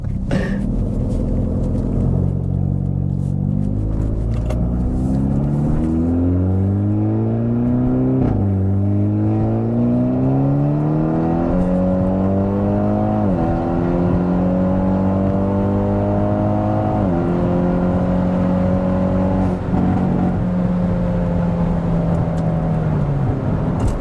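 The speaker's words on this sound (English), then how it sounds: "And that exhaust is loud as hell." A loud Hyundai Veloster N DCT exhaust with a Stage 2 tune revs repeatedly, the engine note climbing and dropping in waves over a steady deep rumble, close by with no talking.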